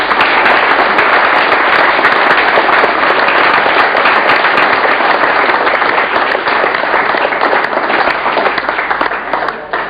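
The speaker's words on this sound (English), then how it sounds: "Can we give him a round of applause?" Audience applause at a company presentation, a dense, loud wash of many hands clapping continuously and steadily, tapering slightly at the end.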